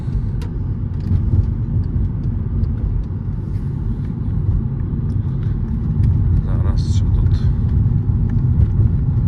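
A steady engine rumble and road noise from inside a moving 2012 Volkswagen Touran 1.6 with a DSG gearbox, with someone speaking briefly over it.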